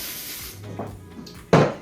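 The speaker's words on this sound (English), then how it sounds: "you're gonna wanna start out kind of like spraying your tin foil" Cooking spray hisses onto tin foil, one short burst near the end after quieter handling noises, close and fairly loud, with no talking over it.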